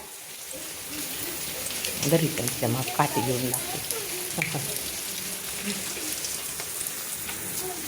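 Rain falls steadily on outdoor surfaces in a continuous pattering hiss, while people talk over it for part of the time.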